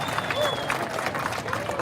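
A crowd at the Mid-Coast Trolley Extension grand opening in San Diego applauds as a congressman is welcomed on stage: a short, dense burst of clapping with a speaking voice over it.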